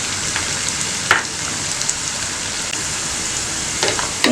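Onions and three green chillies fry in a pan for minced mutton biryani, a steady close sizzle with a few sharper crackles and stirring bursts, with no talking.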